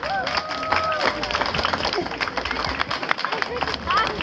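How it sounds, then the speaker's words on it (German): A crowd at the Frühlingsdom funfair opening in Hamburg claps and cheers amid busy outdoor babble, scattered hand claps rising and falling with voices mixed in. "Großen Applaus nochmal."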